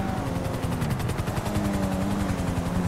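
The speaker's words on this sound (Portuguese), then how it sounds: "O helicóptero da polícia." Police helicopter in GTA 5 Roleplay, a steady loud rotor chop with a pulsing beat that continues throughout, close and unbroken, with a high engine whine layered over the thumping blades.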